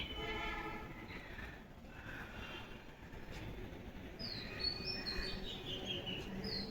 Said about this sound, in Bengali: পাখিগুলো ডাকছে